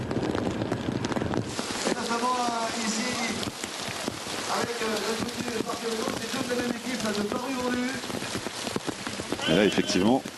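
Heavy rain pours down during a stage of a bicycle race at Le Grand-Bornand, a steady dense hiss, while a commentator talks over it in French.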